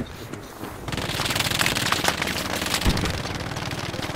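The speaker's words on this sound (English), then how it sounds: "It's just a machine gunner somewhere north of this guy's." Machine gun fire in the WWII shooter Hell Let Loose during a night battle, a loud continuous rattle of rapid bursts heard from somewhere at a distance, with no voices over it.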